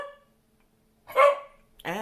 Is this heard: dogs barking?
yes